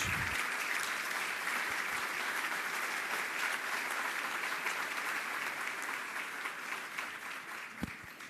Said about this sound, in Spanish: les pediría un fuerte aplauso para todos